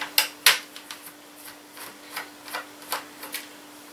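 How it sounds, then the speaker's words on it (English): Screws being worked out of an old laptop: a string of small scraping clicks and rubs, two sharper near snaps early on, then softer irregular ticks roughly every half second, close up and alone. "I think I'm going to go through and take out screws."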